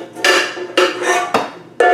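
Metal pans and skillets being handled up close, four loud clanging knocks spaced about half a second apart, each ringing briefly before the next, with no talking.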